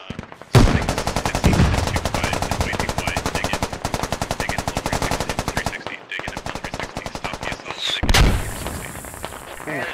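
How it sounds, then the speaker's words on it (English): Machine guns and rifles fire in the military video game Squad, long rapid bursts rattling close and loud with brief pauses, more shots cracking at the end. "Shots now being fired."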